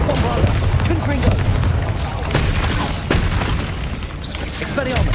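Spell blasts from Bombarda and Confringo in Hogwarts Legacy, a rumbling run of booms and bursts that goes on without a break, with the loud fight noise carrying through the whole stretch.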